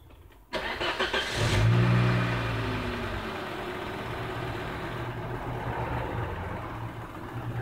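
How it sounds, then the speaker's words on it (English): A Volvo car engine cranks and catches about half a second in, surges briefly, then settles into a steady, close idle with no one speaking. "So I'm going to run the engine now"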